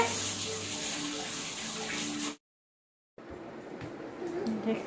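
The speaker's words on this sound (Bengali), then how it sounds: "সব হাত ধোও, হাতটা ধুয়ে নাও ভালো করে" Running water while hands are washed, a steady close splashing stream that cuts off briefly into silence, then resumes with softer trickling and handling.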